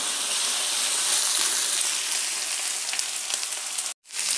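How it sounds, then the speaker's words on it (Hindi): Chopped potatoes frying on a high gas flame, a loud, steady sizzle and crackle close by that cuts out abruptly near the end and then returns. "गैस की फ्लेम हाई कर देंगे और आलू को गोल्डन ब्राउन करेंगे।"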